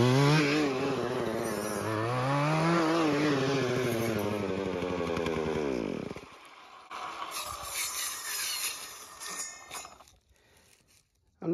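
A Husqvarna chainsaw engine runs loud and close, with its pitch climbing and dipping as the throttle is worked, then it cuts out abruptly and gives way to quieter rustling and handling noises during trail-making work outdoors.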